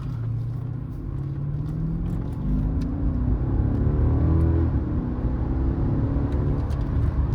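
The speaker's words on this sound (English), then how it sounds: "You guys can hear the car run." A 2012 Mercedes-Benz S550 V8 engine runs loud and close, its deep rumble climbing in pitch as it accelerates steadily, then holding a strong sustained roar.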